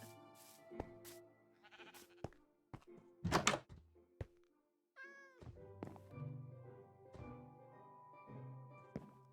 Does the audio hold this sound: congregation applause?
no